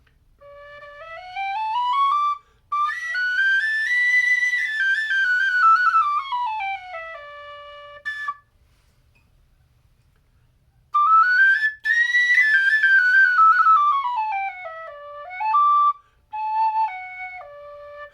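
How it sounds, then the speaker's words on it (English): A wide-bore Burke session tin whistle plays a slow melody in two phrases separated by a pause, with a soft, breathy, airy tone heard alone. "Here's a Burke session bore, also wide bore."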